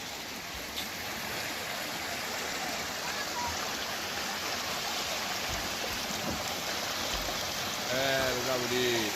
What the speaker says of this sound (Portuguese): Estou aqui no leito do rio.